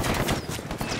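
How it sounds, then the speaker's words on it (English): Rapid gunfire in the video game Narco Road, with a dense burst of automatic shots rattling continuously and loudly for about a second, with no talk over it. "Oh, they're shooting at me."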